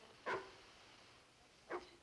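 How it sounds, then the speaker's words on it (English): A dog barks twice, about a second and a half apart, sounding distant and faint against a quiet background. "John Wilson, did you wake me up just to listen to a dog bark?"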